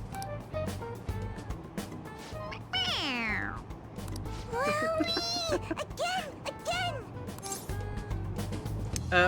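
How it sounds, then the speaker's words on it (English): A stuffed toy cat in the Persona 5 Royal video game gives a run of repeated meows when pressed, clear and close over game music, while people talk in the background. "It meows when you press on its head."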